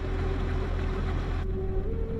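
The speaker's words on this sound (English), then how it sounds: "Let's start it up." Kloss tractor engine in the farming video game Farm Sim 25, a steady, dense low rumble with a faint tonal hum, continuous and close, with no voices.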